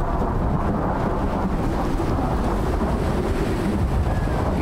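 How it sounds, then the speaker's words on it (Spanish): Steady, dense rumble of rain with a deep thunder roll underneath in the video game Icarus, constant and loud throughout, no voices. "Llueven truenos."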